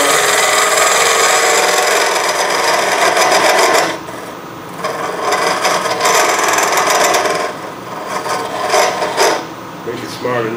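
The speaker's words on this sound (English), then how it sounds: "the tenon is a little bit longer, deeper than I want, so I'm going to cut part of it off." A wooden tenon being cut down while turning a hollow vase on a lathe, a loud continuous rasping, scraping drone that changes texture partway through and carries on without speech.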